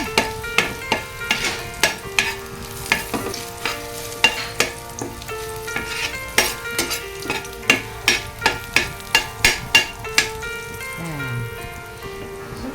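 Garlic sautéing in a pan until it browns: a steady sizzle of frying with a regular run of sharp spatula taps and scrapes against the pan, close and fairly loud.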